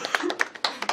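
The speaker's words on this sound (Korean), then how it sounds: "박수 좀 쳐주세요" A small group claps briefly, giving a short run of scattered hand claps that sound close and fairly sparse.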